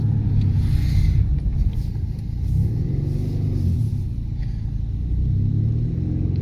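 A four-cylinder turbocharged Camaro engine drones steadily up close while driving, a low, heavy rumble with slight surges, no voices.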